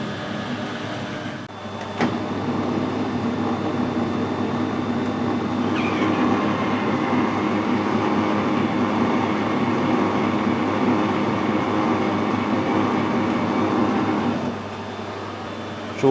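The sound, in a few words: lathe screw-cutting a thread in plastic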